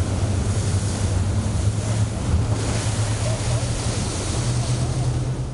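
Water rushes and roars around a Macuco Safari tour boat pushing upstream against the current below Iguazu Falls, a dense, steady wash mixed with boat motor rumble and buffeting wind on the microphone.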